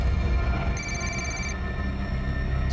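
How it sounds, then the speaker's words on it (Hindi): A phone rings briefly with a steady electronic trill over a heavy, constant low rumble, then stops; no one talks. "घंटी की आवाज आ रही है अंदर से"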